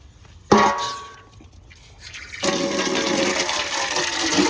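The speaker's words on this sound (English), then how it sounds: "Get him some water going." Tap water running to fill a dog's water bowl, starting with a sharp clink and gush, easing briefly, then a strong steady splashing stream, close with no talk.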